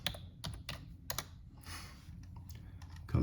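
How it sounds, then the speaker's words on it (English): Typing on a computer keyboard while searching online, close, crisp bursts of key clicks in uneven clusters with short pauses between them, no voices. "I typed Prime Arcades reviews"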